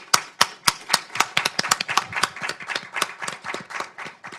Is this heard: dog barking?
no